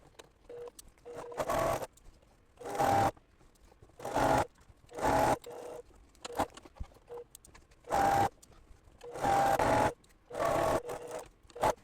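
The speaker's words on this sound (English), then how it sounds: "now we're going to sew 1/4 inch here and then press it open" A sewing machine stitches a quarter-inch seam on a quilt top in short bursts of rapid whirring, stopping and starting about ten times with brief quiet gaps, close and without talk.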